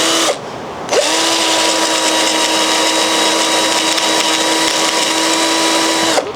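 A cheap power drill runs at full power, a loud, steady high whine held close for several seconds after a brief dip at the start, then cutting off at the end.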